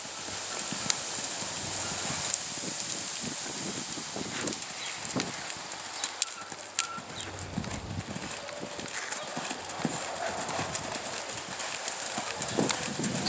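A horse canters in a home riding arena, its rhythmic clip-clop hoofbeats steady and fairly close throughout, with faint rustling and occasional background sounds.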